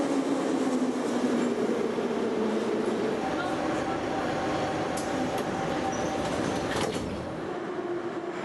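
A Moscow metro train rolls along with a continuous rumbling roar, faint wheel squeals and clatter rising and falling, heard at moderate level with indistinct voices mixed in.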